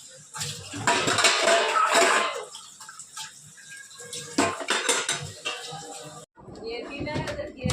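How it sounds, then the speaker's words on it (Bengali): Dishes being washed by hand with water, pots and steel utensils clattering and scraping in bursts, with a person talking over the clatter. "নিয়ে ঠান্ডা বাসন ধুই"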